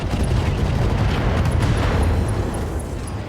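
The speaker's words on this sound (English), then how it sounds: "Fire at all weapons" Mech weapons all fire at once in the Roguetech mod of BattleTech, a dense, sustained rumble of booms and blasts that stays loud for the whole stretch.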